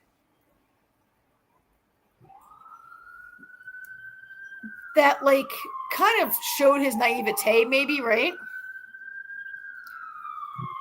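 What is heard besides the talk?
ambulance siren passing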